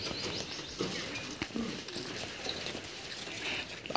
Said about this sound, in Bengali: কবুতরগুলো এখানে এসে এই সরিষাগুলো খাচ্ছে